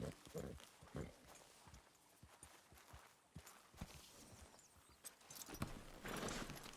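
Horse hooves clip-clopping in the video game Red Dead Redemption 2, a series of soft, uneven hoof beats with brief rustling and faint background noise, quiet throughout.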